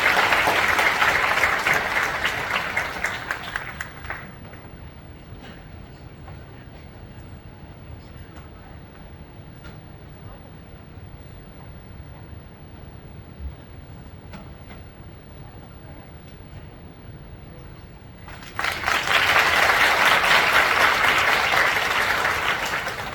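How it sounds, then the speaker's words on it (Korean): An audience claps loudly at a church broadcast event while a pastor is welcomed, a dense burst of applause that fades into a quiet hall and then swells again near the end. "우리 박수로 맞이합시다"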